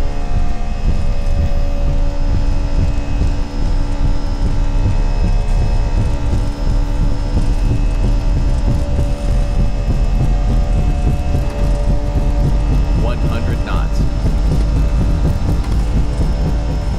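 Simulated Airbus A320 engines spool at takeoff power on the runway in X-Plane 11, a loud steady jet roar with a constant high whine that runs the whole time, with no one talking.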